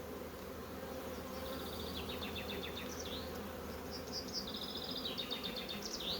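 Honeybees buzzing during a beehive inspection of a large colony, a steady low hum from the swarm with chirping calls from birds or insects above it, fairly quiet and with no talking.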